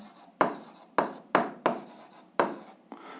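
Chalk or pen strokes while an equation is written, six short scratchy bursts at a steady, unhurried pace, close and fairly quiet with silence between.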